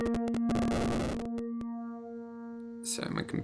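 An Elektron Syntakt synth voice with a slow LFO modulating its waveform and reverb added, giving sustained harmonic tones broken by sharp stuttering chops that trail into a reverberant wash before a burst of noisy texture.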